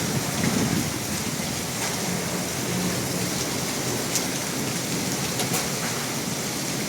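Hail and rain pour down together in a dense, steady hiss of impacts, with a few sharper, brighter hits standing out. No one speaks.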